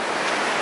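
Sea waves wash against the Greenland coast in a brief, steady roar of surf. The sound is close and full, with no voices.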